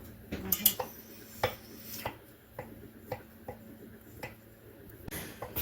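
Soft boiled potatoes are chunked into a bowl, heard as a series of light, irregular clinks and taps of a utensil on the dish, fairly quiet and close with no talking.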